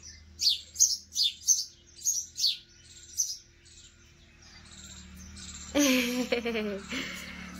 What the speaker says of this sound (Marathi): ही बघा पक्षी किती छोटीशी पक्षी आहे, दिसते का, अगदी छोटी पक्षी आहे. किती आवाज आहे ह्याचा.